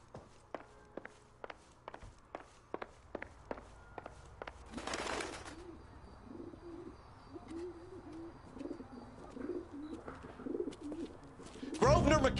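A carrier pigeon in the L.A. Noire video game coos in soft repeated low burbles, preceded by a run of sharp rhythmic footsteps, with rustling and a voice partly mixed in.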